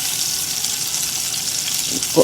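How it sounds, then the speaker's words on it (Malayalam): Mustard seeds and urad dal fry in hot oil before shallots, green chili, curry leaves and ginger are added and sautéed for a Kerala breakfast dish, making a continuous bright sizzle with a soft stir or clink near the end. "ചുവന്നുള്ളി പച്ചമുളക് കറിവേപ്പില ഇഞ്ചി ഇതൊക്കെ കൂടിയിട്ടിട്ട് വഴറ്റുന്നു"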